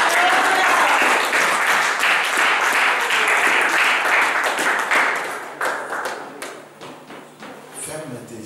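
A church congregation at a seminary service applauds and cheers for the Lord, loud sustained clapping and shouts that gradually thin out into scattered claps near the end.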